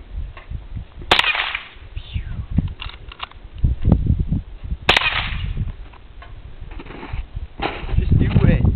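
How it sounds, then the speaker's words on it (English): A Winchester .22 lever action rifle fires two sharp shots a few seconds apart, with mechanical clatter and noise around them and voices talking. "Winchester 22 lever action."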